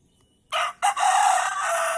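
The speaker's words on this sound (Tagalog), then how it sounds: "May manok ay." A rooster crows nearby, a loud, drawn-out call that starts with a short burst, breaks briefly, then carries on strongly.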